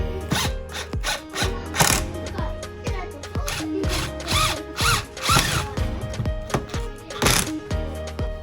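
A power driver sinks screws into 2x4 lumber while building a DIY sofa, whirring and ratcheting in close, repeated short bursts.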